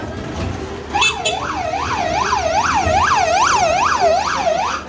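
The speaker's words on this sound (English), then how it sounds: "Looks like an ambulance," A wailing emergency vehicle siren on a busy Jerusalem street in the Old City, rising and falling in a fast regular cycle, loud and close, sustained over street noise.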